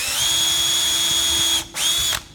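A small bit in a power drill runs a pilot hole into lumber, a steady high motor whine held for over a second, a brief stop, then another short burst, close and loud.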